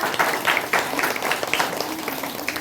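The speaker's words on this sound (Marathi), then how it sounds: "सगळ्या शिक्षकांसाठी, सगळ्या पालकांसाठी आणि आमच्या बच्चे कंपनीसाठी एकदा जोरदार टाळ्या" An audience at a school annual project presentation claps for the teachers, parents and children, a short burst of brisk applause heard up close.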